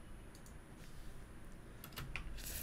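Keyboard typing on a computer while playing Car Mechanic Simulator 2018, a run of soft close key clicks that grows denser and louder toward the end, with no talking.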